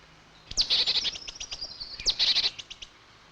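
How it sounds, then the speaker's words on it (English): Great tits and blue tits squabble at a snowy woodland feeding spot, giving two bursts of rapid, high, scratchy chattering calls close by, with a short gap between them and no talk. "Great tits tend to be the bully boys, but even so, blue tits do pretty well."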